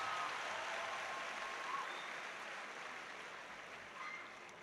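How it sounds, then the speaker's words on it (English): Applause from the audience at a university pre-convocation lecture, heard as a faint, distant, continuous wash of clapping that holds steady and slowly fades. "A round of applause for him, please."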